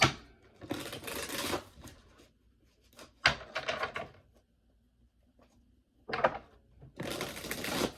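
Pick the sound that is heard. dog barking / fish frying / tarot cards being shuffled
tarot cards being shuffled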